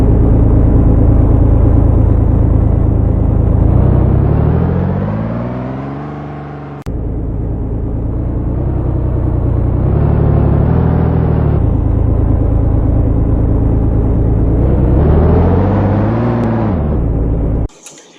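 A family car in an animated series drives steadily along, its engine droning loudly and continuously with rising and falling pitch as it accelerates and eases off, ending abruptly.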